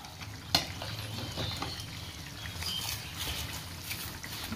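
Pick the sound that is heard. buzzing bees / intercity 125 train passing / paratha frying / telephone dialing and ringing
paratha frying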